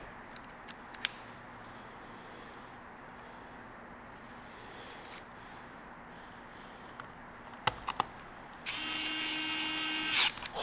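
An electric screwdriver drives screws while a PC is being upgraded for gaming. It gives a short, steady, high-pitched motor whine near the end, after a quiet stretch with a few faint clicks and taps.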